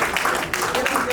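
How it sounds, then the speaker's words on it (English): Audience applause at a convention meeting, dense steady clapping from a crowd filling the room, loud and sustained. "round of applause"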